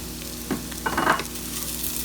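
Home fried potatoes and onions, with green onion added near the end of cooking, sizzle steadily in a pan, with a couple of brief louder stirring scrapes and no voice.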